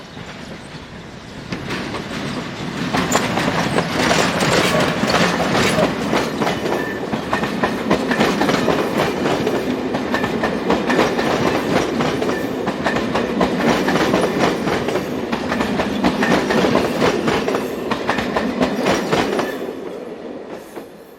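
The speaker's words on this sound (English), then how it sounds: "Here 2304 departs with an empty coaching stock working for Ghent." A Class 23 electric locomotive departs with an empty coaching stock working for Ghent, a loud sustained rail rumble with clickety-clack wheel beats that swells in and then fades away.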